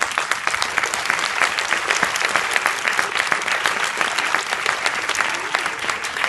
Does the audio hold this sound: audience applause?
yes